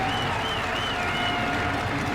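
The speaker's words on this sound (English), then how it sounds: "And the crowd up there celebrating." Crowd at a judo grand slam in Düsseldorf cheering and applauding, a dense roar of clapping and voices with a faint whistle-like tone running through, steady and loud.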